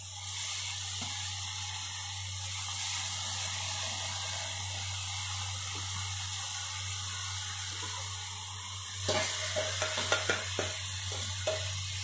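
Fish curry is stirred into a fried spice paste, a low steady sizzle giving way to several clattering spoon scrapes and splashy stirs near the end.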